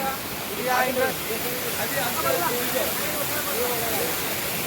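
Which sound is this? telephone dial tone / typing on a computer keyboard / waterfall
waterfall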